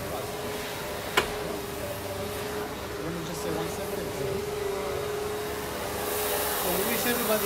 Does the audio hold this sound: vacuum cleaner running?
yes